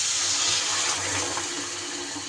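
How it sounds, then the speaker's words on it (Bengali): Water pours steadily into a pan of Rohu fish curry, giving a continuous loud rushing splash for a couple of seconds. "আমি জল দিয়ে দেব।"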